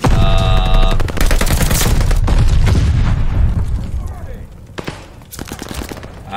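Explosions and gunfire in the video game Call of Duty Vanguard: loud booming blasts and rattling automatic fire fill the first few seconds, then thin out into scattered shots and bangs.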